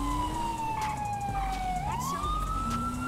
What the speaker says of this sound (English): we need to get those sirens on, because need people to move right now.